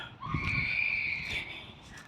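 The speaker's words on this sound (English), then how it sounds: "There's a group of young girls messing around down there." A distant, high-pitched shout or squeal rising over a faint outdoor background, young girls yelling somewhere off in the distance at school letting-out time.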